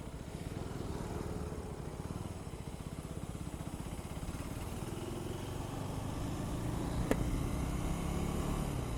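A KTM 390 Adventure X Plus motorcycle's single-cylinder engine thrums steadily at low revs through a slow U-turn, a continuous close engine drone with a faint click near the end; no talking.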